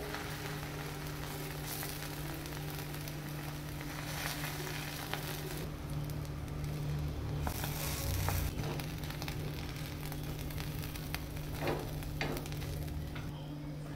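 Pav bread buns toasting in butter on a hot pan for pav bhaji give a soft, steady sizzle throughout, with occasional light scraping and stirring sounds over a constant low hum.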